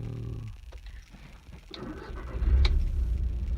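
A MK1 Audi TT engine cranks and catches, rising into a steady low rumble that grows louder toward the end, with no talking.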